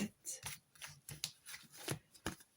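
Tarot cards drawn and laid down one by one for a nine-card spread, a quick series of soft papery slaps and slides, close and faint.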